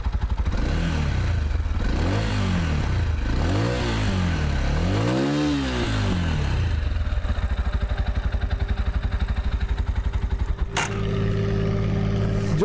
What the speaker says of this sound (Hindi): इसके बेसिकली दो मफलर्स हैं and it is idling around 1000 RPM।